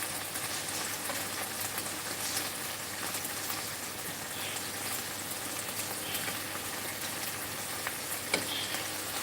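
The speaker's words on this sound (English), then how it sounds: "Now frying chicken." Chicken pieces fry in a pan, a steady close sizzle and crackle of hot oil with occasional small pops, no talking over it.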